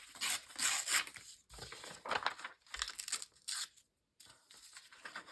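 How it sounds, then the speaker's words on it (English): Paper being torn by hand for a junk journal, a series of close, crisp ripping bursts with short pauses between them, each tear rough and papery, no talking. "I'm just going to tear that up."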